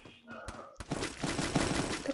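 Video game gunfire, a couple of sharp shots followed by a rapid burst of repeated firing, moderately loud and close, with a voice talking over part of it.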